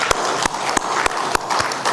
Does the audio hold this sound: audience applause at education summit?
yes